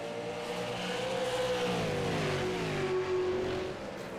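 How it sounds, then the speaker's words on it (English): Stock car engines roar past in the distance on a European race track at Donington, a steady rising and falling drone of several motors, with no talking. "It's stock cars around European tracks."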